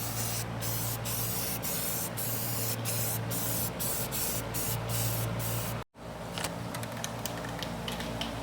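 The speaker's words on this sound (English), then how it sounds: "So time to squirt some paint on it." Spray paint hisses onto a car chassis in a string of short bursts, then a pause and more spraying, close up with no talk.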